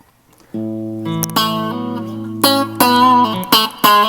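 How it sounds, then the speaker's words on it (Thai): An electric guitar plays single notes and chords with a clean tone and a light amp reverb tail, the strummed chords ringing out brighter toward the end. "นี่เสียงคีนนะครับ ใส่รีเวิร์บ"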